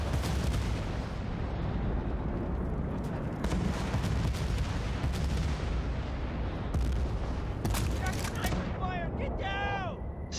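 Sniper shots and gunfire in the video game Battlefield Bad Company 2, a dense, continuous barrage of booming shots and battle noise filling the whole stretch, with chirpy sweeping effects near the end and talk mixed in.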